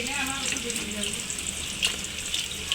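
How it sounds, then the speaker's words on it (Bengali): Potato chops dipped in gram flour (besan) batter fry in hot oil with a steady, close, loud sizzle and crackle, and a few brief clinks of a spoon among the bubbling. "এই যে এখন আমাদের তেলটা রেডি হয়ে গেছে, গরম। আমি এটার মধ্যে দিয়ে দিচ্ছি আলু, বেসনের মধ্যে চুবিয়ে"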